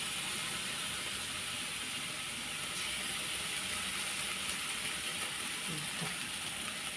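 Preserved radish (chai po) with egg, sugar and oyster sauce stir-fried in a pan, giving a steady, continuous sizzling hiss with faint scraping throughout and no talk.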